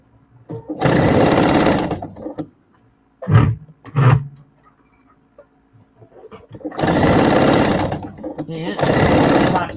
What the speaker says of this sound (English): I always top stitch when I'm doing a bow cozy